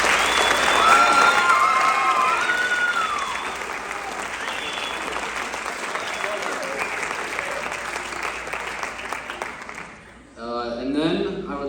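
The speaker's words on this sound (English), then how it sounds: "I would like to first give a big round of applause to the EAC Gila Monster Band" Applause for the EAC Gila Monster Band at a Constitution Day event, a dense, steady wash of clapping from a large audience that runs for about ten seconds, then fades as a voice begins speaking.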